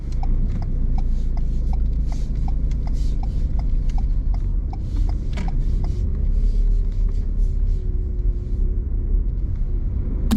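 Inside a car on a driving test, a low engine rumble and road hum fill the cabin as the car moves off, with a steady ticking like an indicator running over it.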